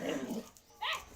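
A dog barks twice in quick succession, fairly close, with a short pause between the two sharp barks and no speech.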